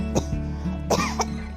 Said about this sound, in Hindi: खांसी,